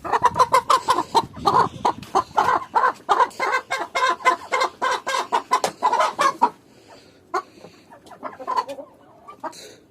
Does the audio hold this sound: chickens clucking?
yes